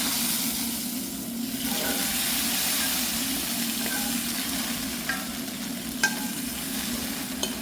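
Hot tempering is poured into a pot of rasam and sizzles in a steady, close hiss that stays fairly even, with small crackles and pops scattered through it.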